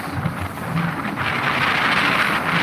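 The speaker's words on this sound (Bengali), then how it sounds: "প্রচন্ড বাতাস" Strong wind buffets the microphone on a boat trip across Mithamoin haor, a loud, steady roaring rush with a low rumble beneath it and no speech.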